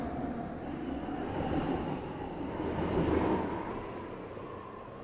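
A train rumbles into a platform where it terminates, a steady low roar that swells and fades slightly as it approaches, with no talking.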